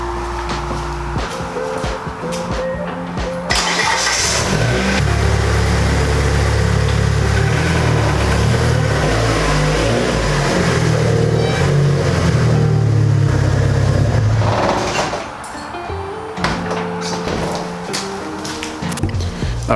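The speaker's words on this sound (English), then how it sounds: "I'm gonna put the Eclipse in the garage" A Mitsubishi Eclipse engine runs nearby, a steady low rumble that swells and revs as the car pulls into a garage, then eases back toward idle near the end.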